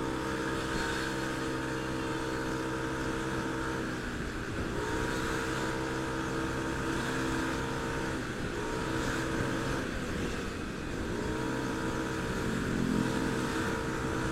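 A Yamaha NMAX Old scooter engine drones steadily while riding, with its pitch dipping and climbing again a few times as it accelerates, a continuous close hum mixed with wind rush.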